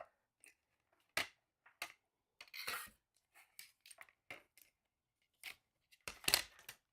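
A small paper die-cutting machine cranks a stamped card through in quiet bursts of crisp clicking and crunching, with short pauses between passes and no talk.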